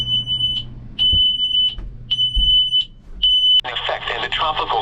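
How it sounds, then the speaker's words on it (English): Weather alert tone from a VHF marine radio aboard a boat riding out Hurricane Beryl, four evenly spaced high electronic beeps, loud and close, followed by a crackling broadcast as the radio comes on. "And then the VHF alarms started rolling in."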